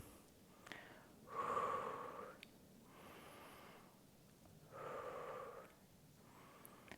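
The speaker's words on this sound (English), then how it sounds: "Breathe in." Slow breathing during a pilates exercise on a mat at home, with two distinct, fairly quiet breaths drawn in and pushed out, a couple of seconds each, close to the microphone.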